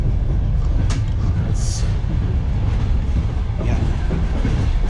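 A roughly 50-year-old overnight train in Belarus running steadily on rails, a loud continuous rumble with clickety-clack and occasional squeals, heard from inside the carriage.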